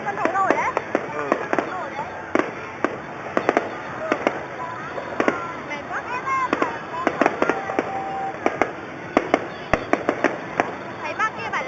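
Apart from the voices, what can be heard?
fireworks bursting at a Mid-Autumn festival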